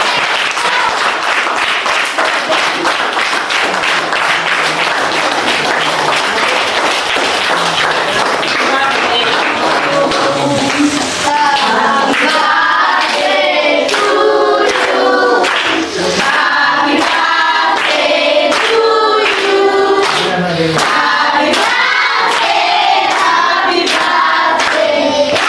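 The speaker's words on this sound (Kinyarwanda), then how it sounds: "Amashyi menshi kuri shefu." Applause for the chef who baked the cake at a child's school birthday celebration: loud, dense clapping from a crowd, sustained for most of the clip, with other sounds rising beneath the clapping in its later part.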